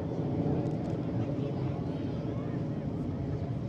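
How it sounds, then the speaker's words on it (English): RAF Red Arrows jets accelerate into a 4G turn during a flying display at the Scottish Airshow, producing a continuous distant jet rumble with wind buffeting the microphone. "The aircraft are now accelerating, and this will be a turn at 4G."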